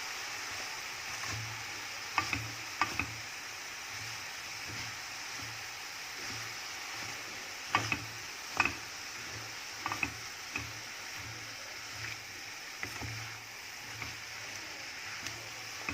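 Onions with salt and spices are stirred in a pan, producing irregular spoon clicks and scrapes against the pan over a faint, steady background hiss, fairly quiet and sporadic.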